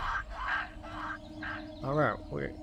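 A duck quacks in the Arcania video game, giving several short, nasal calls at an even pace, followed by voiced quacking that sounds like a person imitating the bird.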